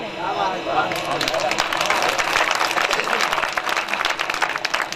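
Audience applause rising at a kavi sammelan, a Hindi poetry recital, dense clapping from a large crowd swelling after a spoken line and holding steady and loud throughout.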